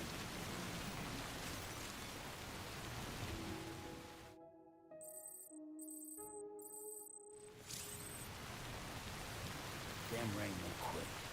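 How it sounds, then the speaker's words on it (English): Steady hiss of heavy rain in the video game Death Stranding, broken midway by a short burst of bright electronic tones before the downpour resumes. "Damn rain won't quit."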